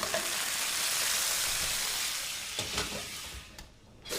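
A brined turkey roasting gives off a loud, close, continuous sizzle and crackle that thins out toward the end, with a few brief clatters near the close.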